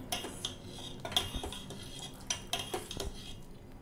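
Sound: spoon stirring cornflour into boiled milk in a pot

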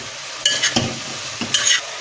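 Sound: stirring meat and vegetables for pilaf in a frying pan

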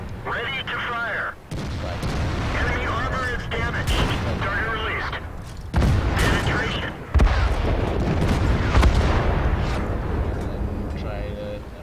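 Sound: tank cannon firing in World of Tanks video game

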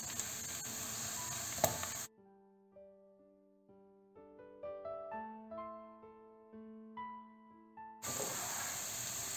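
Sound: onions and peppers sizzling in hot oil

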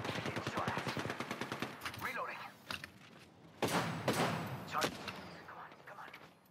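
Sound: gunfire in a video game

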